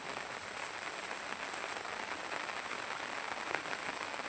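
Rain pours down steadily outdoors during a fishing trip with worm bait, a loud, even, unbroken hiss of drops striking surfaces close by, with no voices heard.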